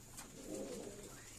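Lakka fantail pigeons coo softly during evening feeding, a faint low burbling call with light bird chirps in a quiet setting.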